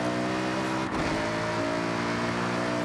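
A loud sports car engine in the video game Forza Horizon 6 drones, dips briefly as if shifting gear, then climbs back into a sustained, buzzing high-revving roar.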